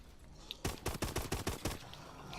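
Gunfire at zombies in Call of Duty Advanced Warfare zombies mode: a burst of about seven sharp, evenly spaced shots, loud and close, followed by quieter ambience.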